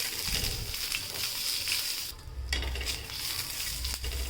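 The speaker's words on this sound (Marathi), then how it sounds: "तेलामध्ये आपण आता मस्तपैकी मिरच्या पलटी करून घेऊयात" Green chillies frying in oil for a spicy village-style chilli relish, a steady crackling sizzle with the soft knocks and shuffles of the chillies being turned in the pan, close and unbroken by talk.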